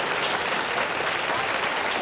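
A dense, even wave of studio audience applause fills a 1970 television game show set, holding steady and loud throughout with no pauses.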